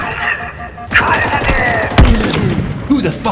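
Turret gunfire from Halo Infinite combat, rapid bursts of shots with heavy booms and thuds, loud and close, mixed with game chatter and voices throughout.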